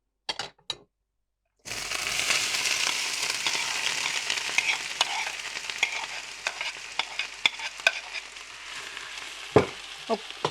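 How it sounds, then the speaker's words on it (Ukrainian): After a few brief clicks and a pause, onions begin sizzling and crackling in a hot pan, a steady frying hiss with occasional clinks of a utensil. "це все зараз пережаримо і будемо відразу класти в каструлю"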